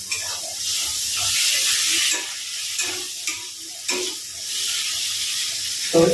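Chilli stirring into sizzling hot oil in a pan for a Bengali katla fish curry (kalia), a steady close frying hiss broken by a few scraping stirs, with no talking.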